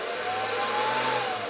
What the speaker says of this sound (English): if you turn it on, it sounds like a jet engine spooling up